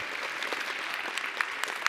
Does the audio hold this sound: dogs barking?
no